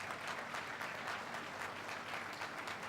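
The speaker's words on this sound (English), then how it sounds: "Let us show our appreciation once more with a huge round of applause for all the degree recipients today." A crowd applauds steadily for degree recipients at a university convocation in Nagpur, India, with dense, even clapping that carries on without a break.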